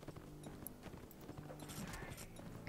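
Hooves clip-clop steadily as a mass of cavalry reinforcements rides in a Mount and Blade battle, a faint, dense drumming of many horses with no talk.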